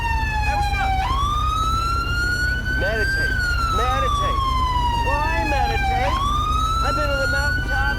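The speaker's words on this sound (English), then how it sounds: "we're going to go ahead and shut our siren off so that way it's not annoying" A police car siren wails in Grand Theft Auto V, a loud steady rising and falling tone that sweeps up and down twice over constant engine and road rumble, with faint voice fragments underneath.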